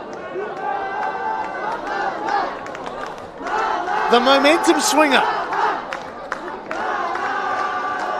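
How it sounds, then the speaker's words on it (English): A big crowd at a T20 cricket match at TIO Stadium roars and cheers continuously, swelling to a louder burst partway through, with a commentator talking over it. "Listen to the crowd and watch this replay"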